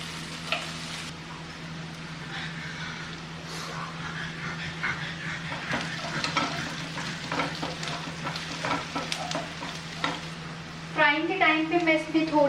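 Dum aloo potatoes frying in a pan: a continuous close sizzle with stirring clatter throughout, a steady hum underneath, and a dog barking near the end.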